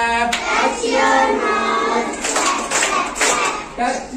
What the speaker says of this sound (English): Touch your nose, clap, clap, clap.